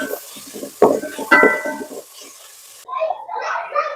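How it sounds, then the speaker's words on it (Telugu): Salted onions frying in a thin-bottomed pot for chicken pulao: a spoon scrapes and clinks against the metal twice, then a steady crackling sizzle continues close by. "ఆనియన్స్ కొంచెం గోల్డ్ కలర్ వచ్చేంత వరకు ఫ్రై చేసుకున్నాం."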